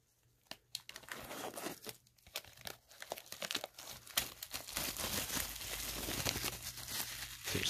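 Soft plastic wrapping crinkling and tearing as a Cyberpunk 2077 physical game box is unboxed, close and intermittent at first, then turning into busier, continuous rustling.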